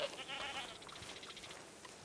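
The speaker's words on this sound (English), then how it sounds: "we're herding the goats" Goats bleating in the RedM Western role-play game during a herding scene, a run of short repeated calls over a steady noisy background, fairly distant and moderate in level.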